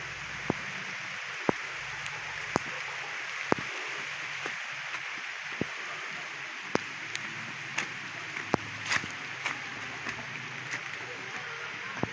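Rain falling outdoors, a constant soft hiss with scattered sharp drip and tap clicks landing irregularly throughout, fairly quiet overall.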